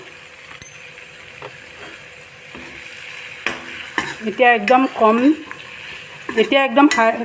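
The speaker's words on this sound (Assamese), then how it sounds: "কম ফ্লেমত মই ইয়াক পুনৰ 1 মিনিট ভাজি ল'ম।" Paneer with garam masala frying and being stirred in a pan over low flame, with scraping and clinking of a utensil and a soft sizzle, while a person speaks briefly over it.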